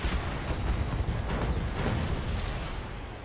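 Weapon fire from a Jenner mech in the BattleTech video game, a dense, continuous rumble of booms and bursts that stays loud and steady for a few seconds with no talking.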